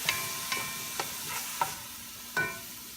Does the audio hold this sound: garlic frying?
yes